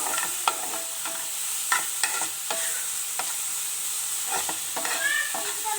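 Capsicum frying in a pan for a chicken bread roll filling, a gentle steady sizzle broken by repeated short scraping stirs of a spoon against the pan.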